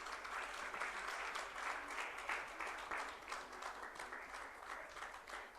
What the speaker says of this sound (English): Let's give it up a louder round of applause, ladies and gentlemen.